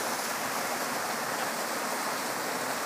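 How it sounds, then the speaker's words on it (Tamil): A small forest stream deep in elephant country rushes loudly and steadily, a dense broadband wash like heavy rain that stays constant and close throughout, with no voices. "இங்கே சின்ன ஒரு ஓடை, ஆனால் சவுண்டு வந்து பயங்கரமாக இருக்குது."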